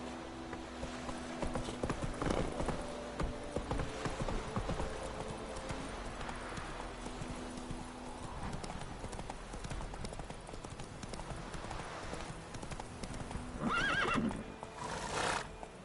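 Roach, a horse in the video game The Witcher 3, gallops with steady rapid clip-clop hoofbeats, a whinny rising near the end, all over continuous game ambience.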